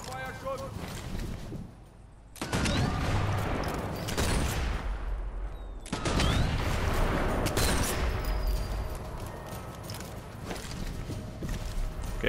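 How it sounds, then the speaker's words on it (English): Bursts of gunfire in the Sniper Elite 4 video game at Abrunza Monastery, dense crackling volleys starting abruptly around two seconds in and again near six seconds, loud and sustained over a background of game ambience. "who's shooting at me?"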